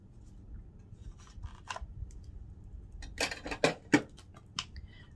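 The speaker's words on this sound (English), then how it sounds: "Let me bust out my scissors." A few sharp scissor snips and crinkles of makeup packaging, quiet at first, then several crisp cuts clustered together near the end.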